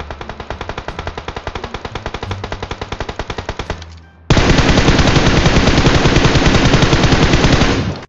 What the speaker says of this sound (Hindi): आगे से गोली चलने का आवाजवा आता है